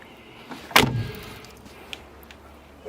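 The car door of a 1970 Porsche 911, one needing adjustment, shuts with a single loud, close thud, followed by faint small rattles and clicks in a quiet setting.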